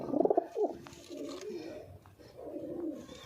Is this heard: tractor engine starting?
no